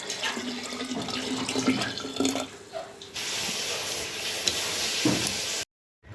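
Liquid is poured steadily during the making of homemade tomato juice, giving a continuous watery rush with a break partway through and an abrupt stop at the end.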